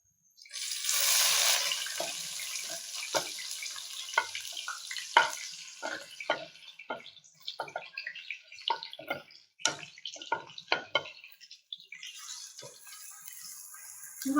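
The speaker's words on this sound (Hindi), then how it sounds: "अब हम इसको इतनी देर तक के लिए फ्राई करेंगे कि हमारे प्याज जो हैं वो गोल्डन ब्राउन हो जाए।" Finely chopped onions, about three, hit hot oil with a strong hiss at the start, then a close, uneven run of sputtering crackles and pops that thins out toward the end. No one speaks.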